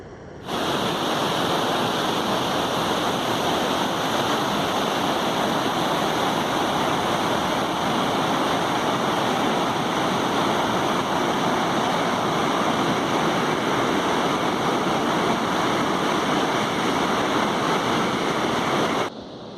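Water pours steadily over Moolathara Dam on the Kannadipuzha river, a continuous loud roaring rush with no pauses from start to finish.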